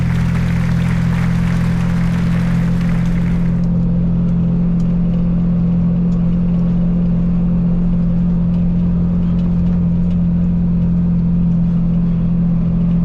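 An Isuzu FTR 240 six-wheel truck hauling a 10-ton container drones loudly from inside the cab, a heavy steady low engine hum that continues unbroken, with a brighter hiss fading out early on.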